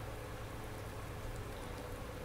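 Steady rain in the farming video game Farming Simulator 19, a dense, even hiss of falling drops that stays constant and fairly faint throughout with no voices.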